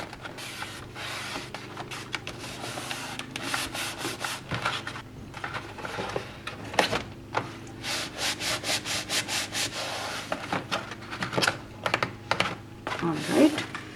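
Paper for a folio being scored along a half-inch score line, heard as a long run of close, dry rubbing and scratching strokes in an uneven rhythm.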